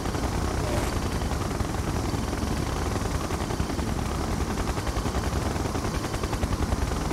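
A siege chopper helicopter in the video game Red Alert 2 whirs steadily with rapid gunfire throughout, a loud dense mix of rotor drone and repeated shots, with game unit voices over it.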